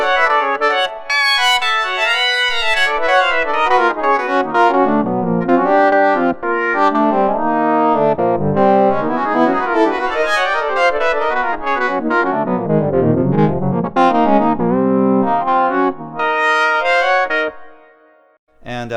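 An FM patch on the Dune 2 software synthesizer, played with an EWI wind controller, sings a flowing, expressive melodic line with gliding pitch bends and rich harmonics, sustained and upfront before fading out at the end.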